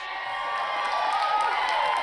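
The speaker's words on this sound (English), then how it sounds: "Give a round of applause." An audience breaks into applause and cheering for actress Viola Davis, a dense wash of many hands clapping mixed with crowd noise and a few whoops, steady and fairly loud throughout, with voices underneath.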